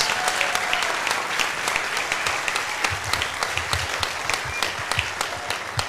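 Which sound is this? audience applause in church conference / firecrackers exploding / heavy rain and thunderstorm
audience applause in church conference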